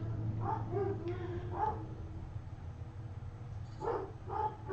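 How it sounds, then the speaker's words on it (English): Several dogs bark at a car pulling into a driveway. The barks come in two short bursts of a few yaps each, fairly distant and muffled under a steady low hum. "Dogs are going nuts."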